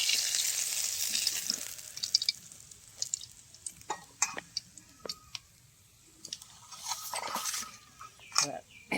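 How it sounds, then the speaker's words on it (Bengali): Fish fry in a pan for a village-style taro and fish dish, bright crackling sizzle with scattered sharp pops and utensil clicks, loud early then settling, with a voice heard at times. "মাছগুলো আমার বেশ লাল করে ভাজা হয়ে গেছে"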